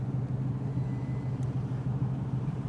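A 1929 DuPont Model G Speedster's engine accelerates in first gear, giving a steady, loud, low rumble that holds evenly throughout with no voices over it.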